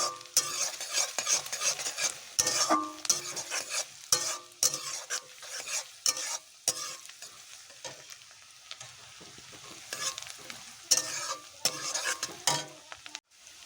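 Ginger and garlic paste fries with spices in a pan, a continuous sizzle broken by repeated scraping strokes of a spoon stirring against the metal, close and busy throughout with no voices.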